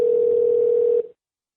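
A telephone dial tone heard when calling a lawyer's billboard number, a steady single pitched tone holding for about a second before cutting off abruptly into silence.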